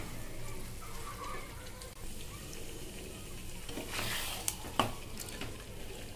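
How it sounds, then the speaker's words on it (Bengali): Mutton being stirred and mixed with sour yogurt in a pan for a Bengali dahi mutton curry, a soft continuous scraping and low sizzle with a couple of sharp utensil clinks near the end. "টক দইয়ের সাথে ভালো করে মিশিয়ে নেবো মাংসটা।"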